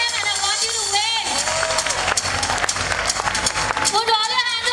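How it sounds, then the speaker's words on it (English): An audience of parents applauds and cheers for small children on stage at a school event, with sustained clapping mixed with loud music and crowd noise throughout. "Keep clapping for them."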